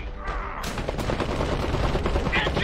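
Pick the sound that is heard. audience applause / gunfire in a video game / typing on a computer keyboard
gunfire in a video game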